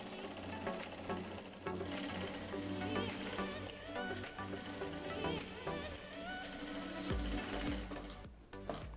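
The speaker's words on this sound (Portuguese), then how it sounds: "efetuo o processo de costura." Sewing machine stitching bias binding along the edge of an old jacket, a steady fast mechanical whir with rapid needle clatter running throughout, loud and close, pausing briefly near the end.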